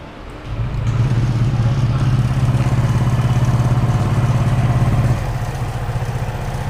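A Honda Click scooter with an upgraded CVT starts up close by and settles into a steady, even idle that drops slightly in pitch near the end.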